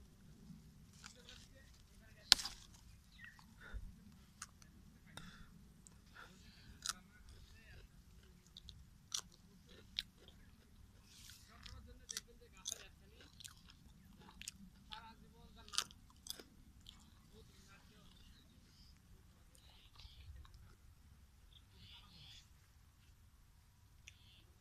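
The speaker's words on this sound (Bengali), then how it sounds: "ভেন্ডি কাঁচা খাওয়া যায়। আমি একটা খাচ্ছি" Raw okra (ladies finger) chewed in a vegetable field. Soft, crisp crunches and bites come in irregular bursts across a quiet background, faint and close to the microphone.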